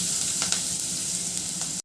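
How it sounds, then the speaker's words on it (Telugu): Chilli paste sizzles in hot oil with hing and curry leaves for a moong dal, a steady close frying hiss with faint stirring scrapes that cuts off abruptly at the end. "చిల్లీ పేస్ట్ ఉంది కదండి, అది వేసేస్తాను."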